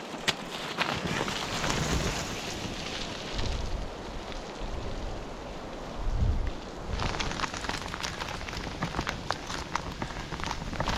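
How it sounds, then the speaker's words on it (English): Tiny hail pellets patter steadily during a bike ride on a mountain road, a dense, continuous rain-like hiss mixed with gusts of wind noise against the microphone for the whole stretch. "It's hail, tiny little balls."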